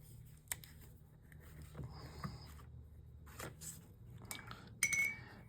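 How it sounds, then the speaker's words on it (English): A paintbrush is rinsed in a glass water jar during art journaling, giving faint, scattered clinks and taps of the brush against the glass with a light splash near the end. "I'm going to rinse my brush off."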